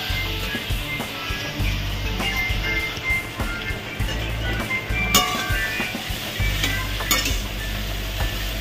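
Fried potatoes and egg being stirred in a pan with a steady sizzle, the spatula scraping and clinking against the metal in repeated strokes, close and continuous with no voices.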